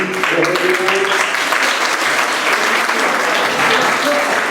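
Loud, dense applause from a crowd, steady clapping filling the whole moment without pause.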